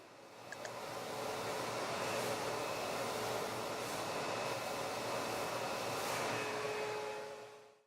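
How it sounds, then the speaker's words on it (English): A vacuum cleaner runs steadily for several seconds while cleaning the red filter from a hose machine, a loud continuous broadband whoosh that starts up and then cuts off at the end. "And now vacuum off the red filter."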